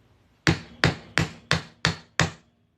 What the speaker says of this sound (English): We're just going to hammer this on through.